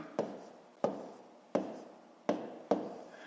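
A pen writes numbers on paper for a long-division sum in a fifth-grade maths lesson, five quick distinct strokes tapping and scratching at an even pace, close and quiet with no other sound.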